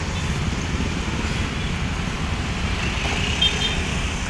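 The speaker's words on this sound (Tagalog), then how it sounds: "Tuloy-tuloy pa rin ang dalyo ng mga sasakyan." Continuous road traffic near a pier on a route to Divisoria and Baseco, with cars, tricycles and container vans in a slow but unbroken flow; a steady, dense rumble with no talking.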